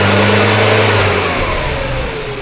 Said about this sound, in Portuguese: Ele sobe o giro sem engasgar